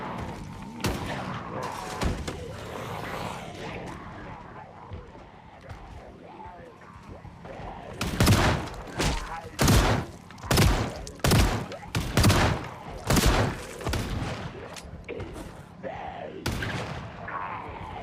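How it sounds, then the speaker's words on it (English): A survivor firing a gun in the zombie survival game Project Zomboid: a run of loud, sharp gunshots in irregular bursts through the second half, following a stretch of quieter in-game noise with talking. "Now we got a survivor who's gonna shoot and cause more problems."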